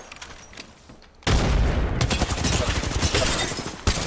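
A frag grenade goes off in an Apex Legends match: after a quiet second, a sudden loud blast opens into a sustained roar of gunfire and crackle that keeps going, with another sharp hit near the end.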